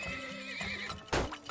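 A horse in the Turmoil video game whinnies with a rising and falling call, then hooves clip-clop briefly near the end, fairly close and clear with no talking.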